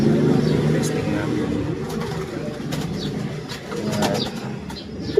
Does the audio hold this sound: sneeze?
no